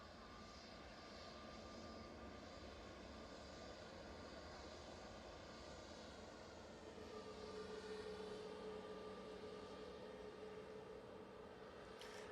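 EasyJet airliner at Manchester Airport departing for Basel, its steady jet engine roar droning continuously at moderate distance with a faint rising whine late on.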